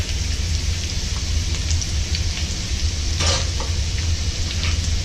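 Garlic frying with orange zest in a pan for orange beef, a dense, steady, loud sizzle with brief crackling pops, close and continuous with no talk.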